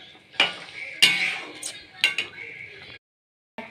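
Paneer frying in a pan, a soft sizzle broken by a few sharp scrapes and stirs, with a brief silence near the end.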